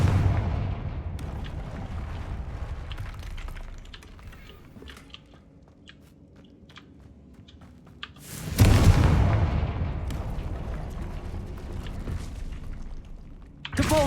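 A Confringo fire curse explodes in a Harry Potter video game, a loud broadband burst at about eight and a half seconds rising over a low rumbling game backdrop, followed by a sustained crackling roar that slowly fades.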